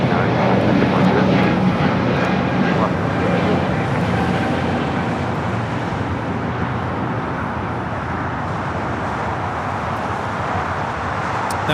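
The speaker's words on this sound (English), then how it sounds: "That was Viva 889 taking off to Merida on the A320 Neo Tecate Pal Norte 2025." A Viva Airbus A320neo airliner takes off, a loud, broad, sustained jet engine roar that stays steady and slowly eases, with faint voices in the background.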